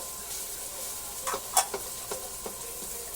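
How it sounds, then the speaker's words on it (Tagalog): Garlic and onion sauté in a pan with a steady, soft sizzle, broken by a few quick scraping and tapping strokes of a spatula as they are stirred. "Gisa-gisa lang po natin ng maigi hanggang sa lumabas ang kanilang aroma"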